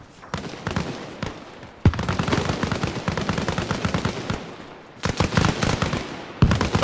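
Rapid automatic gunfire in the video game Battlefield, dense rattling bursts of shots close by with short gaps between volleys, loud and continuous across the stretch.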